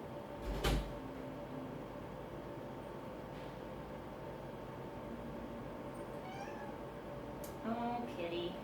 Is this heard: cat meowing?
yes